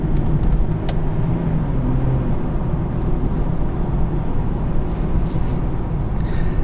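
A 2010 Nissan 370Z Roadster with a torque-converter automatic is driven, a continuous loud engine and road roar heard from inside the cabin, with light wind rush and a few faint clicks.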